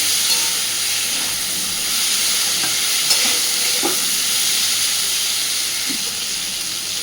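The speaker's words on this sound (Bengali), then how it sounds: "আলুটাকে একটু সুন্দর করে আগে ভেজে নেব।" Potatoes fry in a pan, browning for a prawn poppy-seed curry: a steady, close broadband sizzle runs throughout, with a few soft stirring scrapes midway and no talk.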